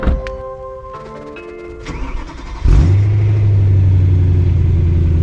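A stock BMW M3 sits quietly after a few soft tones, then its engine fires up abruptly. It settles into a loud, steady, deep drone through the stock exhaust, close by with no talking.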